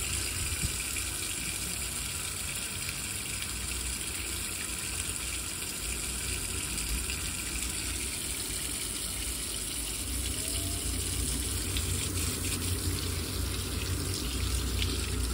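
Hot water tap running steadily after a plumber's boiler repair, a continuous close gushing stream into a sink, even and unbroken for about fifteen seconds with no talk.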